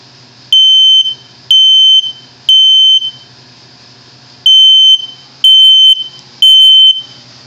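An older Kidde 0915 smoke alarm beeps loud and piercing in repeated groups of three long tones separated by pauses, close and shrill with no talking.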